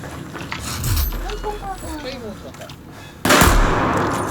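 Gunshots in a Battlefield 4 pistol match stand out clearly alongside game sounds and talk, with a loud burst near the end.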